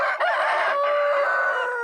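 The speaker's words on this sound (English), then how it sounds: "Every morning around 5 a.m. the roosters wakes me up." A rooster crows close and loud at a home turned mini zoo, one long rising then sustained call filling the moment, with no talk over it.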